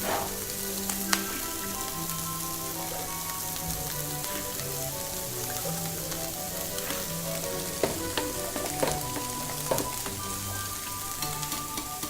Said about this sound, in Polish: Który wrzucam na patelnię. Podsmażamy na rumiano.